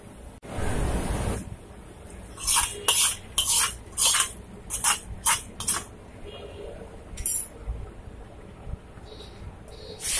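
Ghee tempering poured into dal curry: a loud sizzling splash at the start, then a run of sharp metallic stirring clinks and scrapes against the pot, intermittent and close.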